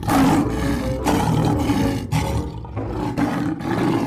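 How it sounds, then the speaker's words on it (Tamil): A lion from a children's bedtime story gives a loud, deep, rasping roar in several surging bursts, close and dominant with no talking. "சிங்கம்"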